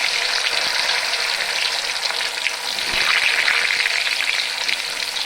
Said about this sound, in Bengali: আমি এখন এই তেলের মধ্যেই এই কোপ্তা আলুগুলো ভেজে নেব ভালো করে।